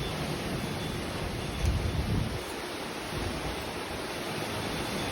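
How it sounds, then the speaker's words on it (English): Strong wind roars steadily during a thunderstorm, a loud broadband rushing with a heavier gust burst partway through and no talking. "That is a lot of wind."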